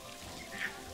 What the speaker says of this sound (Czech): A už se nám zase tady začíná pršet